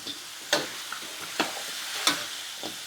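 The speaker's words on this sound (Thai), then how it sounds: "จีในกระทะนี่แหละค่ะ พี่น้องนี่ค่ะ คั่ว คั่วในกระทะนี่แหละค่ะ" Pork leg skin stir-frying in a hot wok sizzles steadily, with several sharp scraping stirs of the spatula against the pan at irregular intervals, close and fairly loud.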